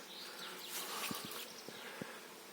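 Honeybees from a swarm that overwintered in the wall of an abandoned house buzz faintly and steadily nearby, with a few soft taps and rustles mixed in.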